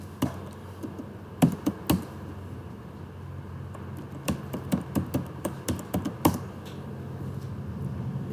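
Code is typed on a computer keyboard in irregular bursts of crisp keystrokes, close and fairly soft, with short pauses between runs and no voices.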